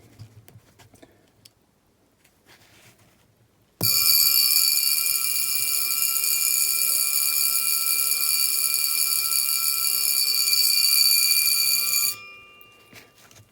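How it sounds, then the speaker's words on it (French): A Jaeger-LeCoultre Master Réveil wristwatch alarm with a suspended gong rings in a sustained, bright metallic buzz for about eight seconds, loud and close, then stops abruptly. "on appelle ça une sonnerie à timbre suspendu"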